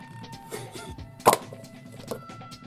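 A toy shooter's sticky projectile strikes a target with a single sharp smack, a brief loud hit standing out from a quiet room with faint background noise.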